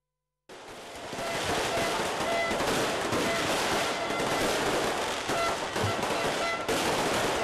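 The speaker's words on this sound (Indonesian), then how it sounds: "Hingar-bingar, kembang api, dan bunyi trompet tidak membuat warga beranjak sampai pergantian tahun usai." A dense, continuous barrage of crackling bangs and pops as New Year's fireworks go off in rapid succession at Puputan square in Denpasar, Bali, with crowd noise mixed underneath.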